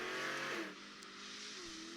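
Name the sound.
race car engine accelerating, Cobra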